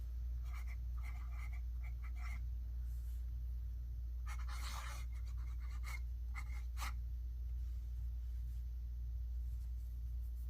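A fountain pen with brown ink scratches across thin Tomoe River paper in short, close, intermittent strokes, faint against a steady low background hum.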